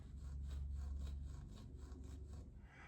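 Emery cloth rubs back and forth over a rifle trigger sear, a close, rhythmic scratchy sanding stroke repeating about twice a second without pause.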